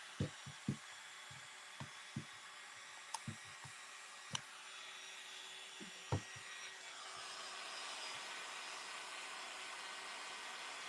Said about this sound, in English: I am going to try to dry her on there with my heat gun